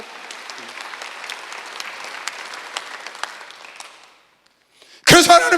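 A church congregation applauds steadily through a Sunday worship service, the clapping fading out before a loud burst of sound at the end.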